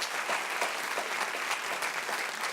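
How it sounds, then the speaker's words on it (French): Studio audience at a French comedy talk show applauds Pascal Légitimus, a dense, steady wash of clapping lasting throughout without a break. "Applaudissements pour Pascal Légitimus, s'il vous plaît."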